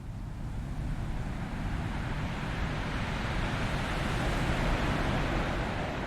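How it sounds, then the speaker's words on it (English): Ocean waves roll in a continuous, steady wash of surf, broad and even, with no talking over it. "you might find that you start to melt into the rhythm of the waves that you hear"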